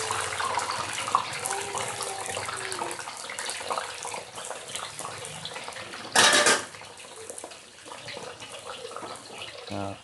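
Cassava chips frying in hot oil in a wok, a dense continuous sizzle and crackle throughout, with a brief louder burst of clatter or splash around the middle.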